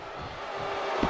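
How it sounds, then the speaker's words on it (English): Wrestling arena crowd roaring during a WWE championship match, a dense, loud wash of cheering voices sustained throughout the short moment with a brief thump near the end. "The sound of this crowd is deafening, and he's asking for more."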